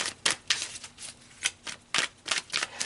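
Tarot cards being shuffled and pulled, giving a quiet run of papery riffles and flicks in irregular bursts, close and alone with no voices.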